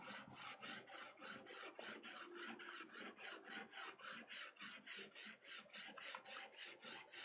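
A steel printmaking carving tool is rubbed back and forth on a whetstone with light pressure, making a soft, quick, even rasping stroke repeated about three times a second, close and quiet.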